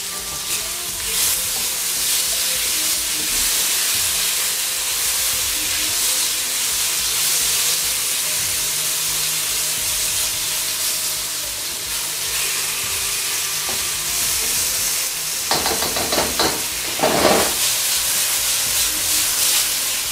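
Beef strips sizzling loudly in a hot pan, a constant close hiss of frying with scraping and clacks from a spatula stirring, busier toward the end.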